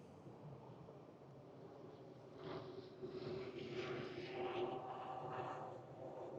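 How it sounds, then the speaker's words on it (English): A police helicopter's low engine drone grows louder midway and hangs overhead, a steady rumble with a faint whine, against a distant Oakland city background. "that's what they call a helicopter, a police helicopter"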